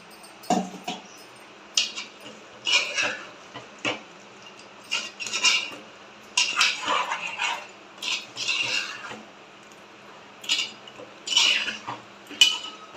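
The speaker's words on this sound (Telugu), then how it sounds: "ఇందాక మసాలా మిక్సీ వేసిన జార్ ఉంది కదా అందులోనే కొంచెం నీళ్లు పోసుకొని తిప్పుకొని పోసుకుందాం" A mixer jar is swirled with water and emptied into a pot of chicken gravy curry, producing a series of loud clattering knocks and scrapes of steel against steel in irregular bursts.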